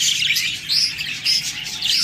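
A pure white, red-eyed albino pet bird from a breeding pair with eggs chirps in quick, bright tweets, several short bursts repeating close and fairly loud.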